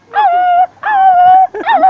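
A man imitates a puppy's bark with his voice, producing three close, loud, drawn-out yelping barks in quick succession.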